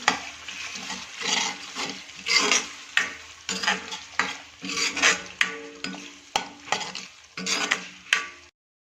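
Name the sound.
stirring Kathiyawadi whole onion curry with spices in a pan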